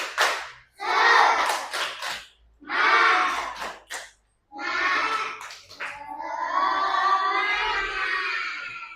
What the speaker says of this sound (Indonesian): Biar tambah semangat lagi. Tepuk semangat.